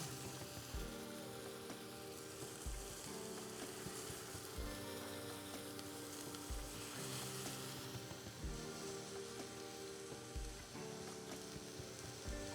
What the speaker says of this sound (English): we're going to sear these on both sides